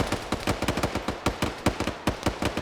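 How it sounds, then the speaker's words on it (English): A stabilized machine gun fires uphill in an online multiplayer war game, loud rapid bursts of sharp cracks in irregular clusters, close and dominant with no talking. "They set up an SSWT kit to stabilize that machine gun. And now they're trying to fire uphill."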